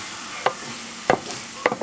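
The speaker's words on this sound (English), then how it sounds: "Look at how bright orange the eggs are. I'm gonna cook them and then add them to the rice." Eggs frying in a pan for homemade fried rice, a steady soft sizzle broken by three sharp scraping stir strokes, close and with no talk.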